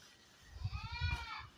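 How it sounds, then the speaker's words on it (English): A male goat that rules a farm territory gives one close, wavering bleat, starting low and rising into a bright, quavering cry that lasts about a second and stands alone without talk. "That's the male goat, the one that is in charge of the whole territory."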